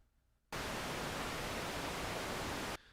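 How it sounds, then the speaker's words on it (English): After a brief quiet moment, a steady wash of darker, rumbling pink noise from a Roland System-8 synthesizer plays evenly for a couple of seconds before stopping sharply. "Pink noise is like more dark,"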